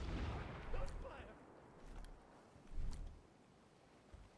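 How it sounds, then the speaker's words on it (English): A grenade goes off in the video game Ghost Recon Breakpoint, giving a low rumbling boom with further muffled blasts behind it, under a faint layer of game ambience. "That's a grenade."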